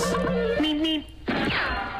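The Looney Tunes Road Runner's cartoon "beep beep": a pair of short high notes followed by a sliding tone and a bright zipping whoosh, loud and close.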